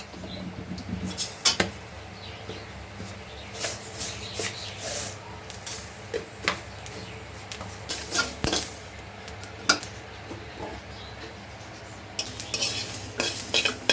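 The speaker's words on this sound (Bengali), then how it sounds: "কালো জিরাটা চুটমুট করে যখন ফুটবে তখন নামিয়ে দেবেন" Nigella seeds dry-frying in a pan, giving sparse crackling pops and light scraping of a stirring utensil against the pan, fairly close and moderately loud with no talk.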